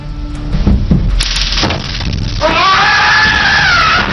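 A man screams in a courtroom after being hit with a taser, a loud sustained cry rising and wavering over noisy room sound, following earlier shouting.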